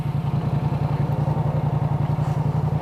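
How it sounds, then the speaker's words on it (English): A motorcycle fitted with its standard, fairly quiet exhaust idles nearby, giving a steady, even stream of rapid low pulses with no talking. "That's the exhaust."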